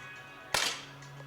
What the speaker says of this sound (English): She will shoot first for sure.